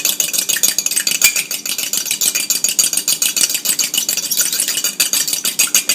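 A fork whisks egg for mushroom soup in rapid continuous strokes, a loud close rattling scrape that repeats evenly and fast against the bowl, steady for several seconds with no voices.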